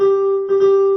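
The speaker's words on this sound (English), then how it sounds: "This type of rhythm, the dotted quaver followed by the semiquaver, is quite a well-known rhythm." A long sustained pitched note followed by a quick short one and then another long note, played in a snappy dotted quaver–semiquaver rhythm in a pompous military style, alone with no talking.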